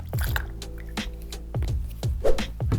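Shoe cleaning solution is squirted from a 4-ounce bottle into a bowl of water, giving a series of close, wet squishing spurts and drips in an uneven rhythm.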